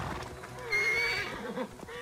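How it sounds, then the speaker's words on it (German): Horses in the Assassin's Creed Origins video game, a clear whinny rising in the middle of clopping hooves and low background game sound. "Wie viele Pferde sollen es denn noch hier sein"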